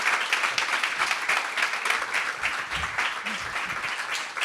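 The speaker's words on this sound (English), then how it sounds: "Let's give them a big round of applause." A dense, steady round of audience applause for a panel at a Nordic female leaders event, many hands clapping loudly and continuously throughout.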